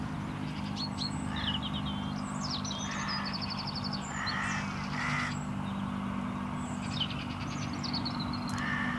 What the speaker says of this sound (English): a hooded crow finally takes an interest in the setup